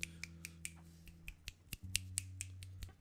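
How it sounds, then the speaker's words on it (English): Crisp finger snaps sound close to a Blue Yeti USB microphone. About a dozen sharp snaps come in a quick, slightly uneven rhythm over a faint low hum. "So now you're probably going to hear me snapping the whole time,"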